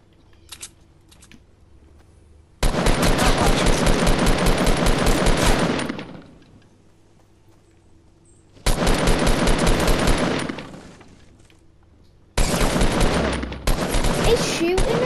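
Rapid automatic gunfire in Fortnite comes in three long loud bursts, each lasting a few seconds with quiet gaps between them.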